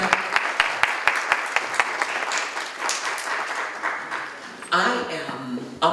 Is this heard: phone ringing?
no